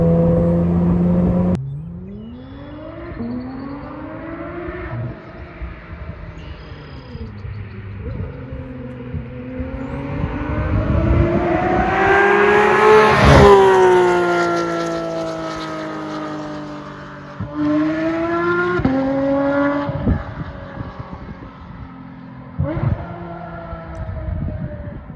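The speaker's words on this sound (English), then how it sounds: "It actually amplified the exhaust sound, which you can hear in the video, when the valves are closed." Porsche 992 GT3 with a Dundon exhaust revving repeatedly, each rev climbing in pitch to a sharp howling peak and dropping back, loud and close with no talk.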